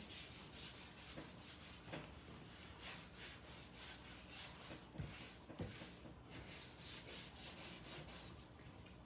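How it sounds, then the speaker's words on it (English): Wax is buffed into a cork board on a repurposed frame with a cloth, giving a faint, steady rhythmic rubbing in quick back-and-forth strokes, close and quiet. "you're just going to turn it over a little bit and just do a little bit of buffing"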